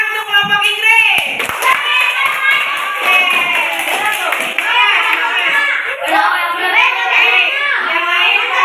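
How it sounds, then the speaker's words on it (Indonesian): Students in a classroom clap for the English group, bursts of close, uneven hand claps mixed with lively children's chatter and shouting throughout. "tepuk tangan untuk kelompok Inggris"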